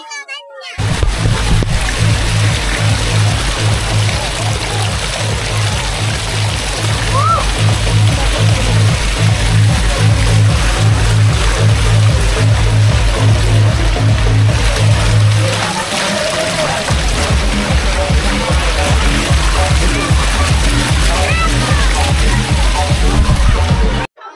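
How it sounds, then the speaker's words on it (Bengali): An artificial fountain in the Sun Vualy park splashes continuously and loudly nearby, with people, including children, talking over the rushing water. "পাশে একটা কৃত্রিম ঝর্ণা বানাইছে"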